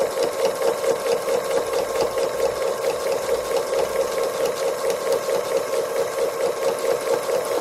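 A sewing machine stitching free motion embroidery on a Raggedy Ruff cow appliqué runs in a steady, loud, close whir with an even rapid needle rhythm throughout, no talking.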